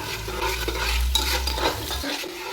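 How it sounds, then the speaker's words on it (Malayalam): Sliced onions with salt frying in hot oil for chicken biryani, stirred steadily with a spoon. A close, continuous sizzle is broken by scraping stirs against the pan, with no talking. "എണ്ണ ചൂടായി കഴിഞ്ഞാൽ സവാള ഇട്ട് കൊടുക്കാം ഇതിൽ കുറച്ച് ഉപ്പ് ഇടുന്നുണ്ട് ഇത് നന്നായിട്ട് ഇളക്കാം"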